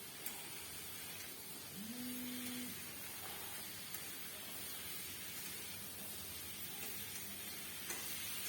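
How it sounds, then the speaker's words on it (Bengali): Potato, ridge gourd and eggplant frying with turmeric and salt in a pan, a soft, steady sizzle with faint stirring scrapes, quiet and continuous throughout, with a brief tonal whine early on and no talk. "ভালো করে ভেজে নেব"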